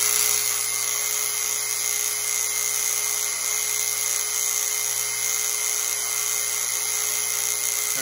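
A vintage 1950s Lionel Poppin' Hobo toy car, made in the United States, runs on vibration, giving off a loud, continuous high-pitched buzzing whine that holds steady throughout with no talking.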